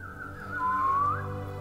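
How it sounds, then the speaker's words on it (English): A single short whistle, a clear sustained tone that dips and then lifts at the end, faint and heard on its own. "gave them a whistle"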